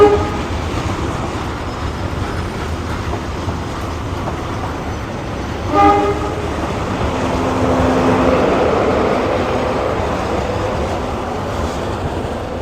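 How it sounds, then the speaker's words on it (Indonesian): The Tawang Alun passenger train pulls into Bangil station with a steady rumbling roar and a brief horn toot partway through, the rolling noise building gradually without talk. "Dan ini ada kereta api Tawangalun masuk."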